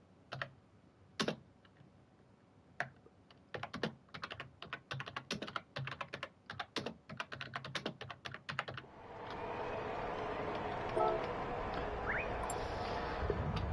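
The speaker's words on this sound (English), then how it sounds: "Because we will type the message." A computer keyboard rattles with quick, uneven bursts of keystrokes, close and crisp against a quiet room, before a broad steady hiss of background noise takes over for the last few seconds.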